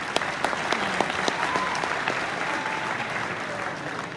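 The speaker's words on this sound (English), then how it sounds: "Please give her a big applause." An audience applauds a speaker at a community gathering, a steady wash of clapping lasting throughout, moderately loud and fairly close, with no talk over it.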